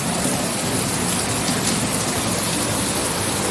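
Steady, dense hiss of heavy rain in Hyderabad fills the clip from start to finish, a broad rushing wash with no voices over it.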